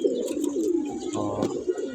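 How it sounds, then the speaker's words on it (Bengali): Pigeons coo steadily in a loft, a low rolling warble repeating close by, with a brief flutter partway through and no talk. "অনেক দিন পরে কবুতরগুলো ছাড়ছি গোসল করানোর জন্য"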